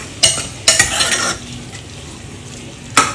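Raw prawns stirred into fried spices in a pan, with a few sharp scraping clatters of a spoon against metal over a soft, steady sizzle.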